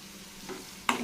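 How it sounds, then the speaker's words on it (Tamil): Onions frying in a pan with split green chilies and curry leaves, heard as a low steady sizzle that swells briefly, then a sharp scrape or stir followed by louder crackling; no talking. "2 பச்சை மிளகாய், கொஞ்சமாக ஃப்ளேவருக்காக கருவேப்பிலை சேர்த்துட்டு நல்லா வதக்கி விட்டுக்கலாம்."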